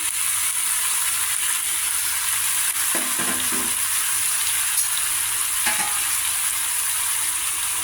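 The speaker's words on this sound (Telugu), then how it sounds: "దోసకాయ ముక్కలు చిన్నగా కట్ చేసుకున్నవి ఇది కూడా వేసేసి అన్నీ మిక్స్ చేసేసుకోవాలి" Small cucumber pieces are stirred into a curry in a hot pan, giving a steady frying hiss with a few brief scraping clinks.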